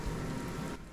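Steady rain falls in the Divinity Original Sin video game, a continuous broadband hiss with low rumbling patter that holds for the whole moment and dips briefly near the end.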